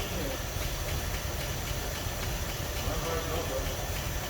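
A Packard car engine idles in a workshop, a steady low rumble with a hissing, airy layer from the fan and radiator area, continuous and close, with voices talking over it.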